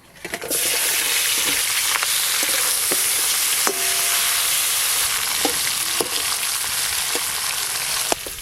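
Fish head and fish bones, barramundi (bhetki) frames, fry in hot oil in a pan, a steady loud sizzle running throughout, punctuated by scattered scraping clinks of a utensil stirring.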